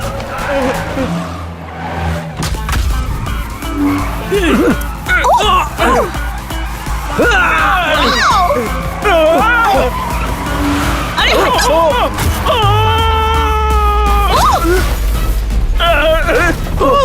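Cars race and overtake in a movie chase, with engines roaring, tires squealing and skidding under a dramatic music score and bursts of voices.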